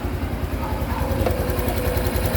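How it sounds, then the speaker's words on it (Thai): A Honda Wave 125 motorcycle with a new 125 cc single-cylinder engine idles close by, giving a steady, even low putter that stays quiet and continuous throughout with no talking. "เครื่องนี้เงียบมากนะ ตัวนี้เครื่องยนต์ 125 ซีซีนะฮะ"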